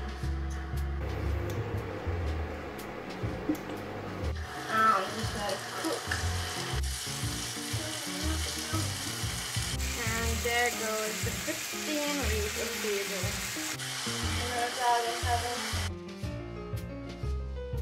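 Chopped onion and tomatoes sizzle and fry in a hot pan as they caramelize, a steady close crackle running the whole time beneath a louder layer of other sound.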